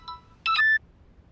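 Brief electronic phone tones, a short double beep followed by a louder chirping ring burst, clear and close in an otherwise quiet room.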